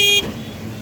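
A short, loud car horn toot sounds at the start, then a low rumble of road noise follows from an auto-rickshaw ride through rainy Cox's Bazar traffic.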